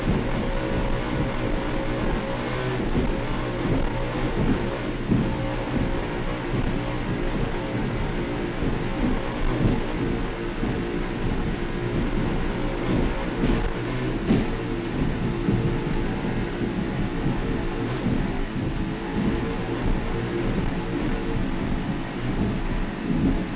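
A 39-foot Extreme offshore racing powerboat with twin Mercury 750-horsepower engines at the 2003 Super Boat Grand Prix in Miami, producing a continuous, loud, rumbling engine roar with churning water noise and no talk.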